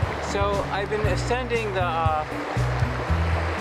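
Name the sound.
strong river current flowing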